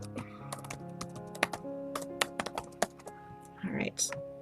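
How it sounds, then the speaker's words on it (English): Computer keyboard typing at a live workshop, with irregular clusters of keystroke taps spread through the clip over a faint background hum and a brief burst of voice near the end. "I'm almost done typing."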